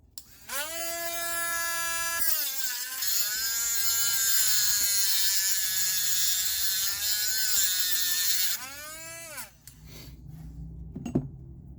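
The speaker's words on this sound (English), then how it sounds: "We'll grind on that a little more" A grinding machine whines steadily against a rear axle part from a Jeep JK with a failed axle seal, the tone loud and sustained, wavering as the load shifts, then winding down near the end with a few clanks.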